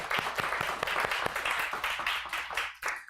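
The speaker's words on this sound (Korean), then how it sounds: "우리 박수로 하나님께 영광 드리겠습니다." A church congregation claps in praise after a sermon, a dense, fairly soft burst of rhythmic hand claps that rolls on steadily, then thins out near the end.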